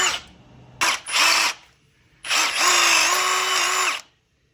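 A handheld power drill bores into a wooden farmhouse dining table leg, guided by a drill guide: two short whirring bursts and then one longer sustained run, loud and close, each with a rising spin-up and falling wind-down.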